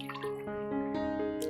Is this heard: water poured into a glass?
yes